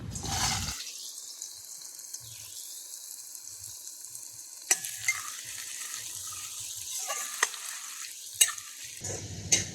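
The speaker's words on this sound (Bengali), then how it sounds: "তেল গরম হয়ে গেছে, পেঁয়াজটা আমরা দিয়ে দেবো।" Onion drops into hot oil in a wok and bursts into a loud sizzle, followed by quieter frying with sharp scrapes and clinks from stirring; no one speaks.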